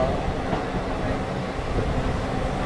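Continuous low rumble of an intercity train standing at a station waiting for a signal, a dense mechanical hum with faint clatter; no one talks.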